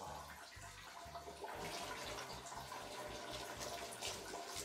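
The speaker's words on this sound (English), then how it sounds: "You're just pouring a bag of peas in the freaking toilet." A bag of peas is poured into a toilet, giving a steady rattling, splashing rush of small pellets into water that runs for several seconds, faint and unbroken by talk.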